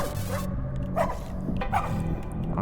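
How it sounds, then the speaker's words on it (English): A game character barks twice in the survival game Casualties: Unknown, short sharp yelps about a second apart over a steady, busy game background. "Dude, I had no idea, like, you could bark in this"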